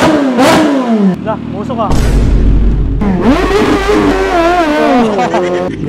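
A Kawasaki ZH2 supercharged motorcycle on its stock exhaust revs loud and close, with sharp rising and falling engine sweeps and a deep exhaust rumble, while someone speaks briefly over it.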